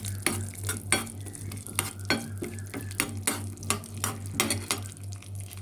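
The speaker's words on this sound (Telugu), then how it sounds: "అక్కడి మనం డ్రై ఫ్రూట్స్ అన్నీ ఫ్రై చేసుకుందాం." Cashews and almonds fry in a pan for semiya payasam, a steady sizzle under regular clinks and scrapes as a spoon stirs them against the metal, close and clear.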